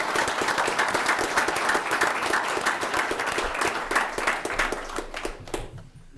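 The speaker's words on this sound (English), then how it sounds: "let's clap for them because they're fantastic." Audience at a police awards ceremony during a city commission meeting claps steadily and densely, a sustained round of applause that tapers off at the end.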